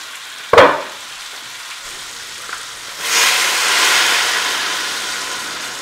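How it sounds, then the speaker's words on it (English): Beef short ribs sauteing in a pan: a sharp clatter near the start, then a steady broadband sizzle swelling up after a few seconds and holding, fairly loud and close, with no talk. "So the beef short ribs have been sauteing."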